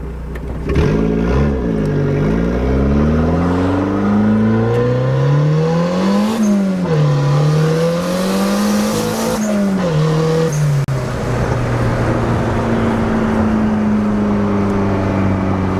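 A turbocharged Honda Civic engine revs hard through a continuous acceleration pull, pitch climbing and dipping with gear changes, loud and close throughout.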